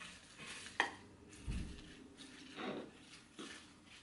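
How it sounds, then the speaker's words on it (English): Vegan Caesar salad dressing is stirred in a container, giving a few soft scraping and clinking strokes spread over a few seconds, fairly quiet and close, with no talking. "Mix it up a little bit."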